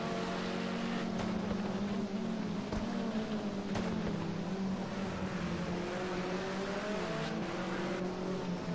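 A BMW touring race car in a racing video game at Imola roars in a steady onboard engine drone. The pitch shifts slightly as the car runs downhill, with no voices.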